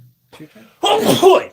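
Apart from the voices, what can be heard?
sneeze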